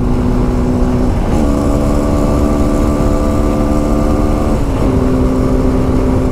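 Suzuki V-Strom motorcycle engine running hard at top speed on a highway, a loud sustained droning hum with wind roar, pitch holding steady with brief shifts, no talk.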